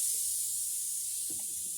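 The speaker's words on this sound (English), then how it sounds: "So I'm spraying it out just to make sure everything's clear and clean." A pump-up yard sprayer wand spraying out oil, a steady loud hiss that runs without a break, with a faint knock or handling sound near the end and no voices.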